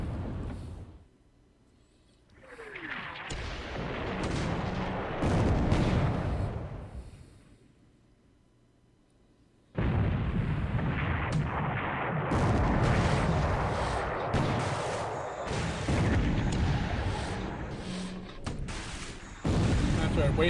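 Naval gunfire in a WWII Pacific war strategy game, cruisers and destroyers trading shots: heavy booming reports and rumbling blasts come in two dense bursts, separated by a brief quiet gap.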